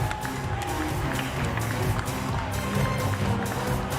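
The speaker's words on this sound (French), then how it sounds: "Applaudissements pour les médailles," A crowd at the Just Dance French Cup 2019 applauds and cheers the medal winners. The noise is steady, dense and fairly distant, with no clear gap across the whole stretch.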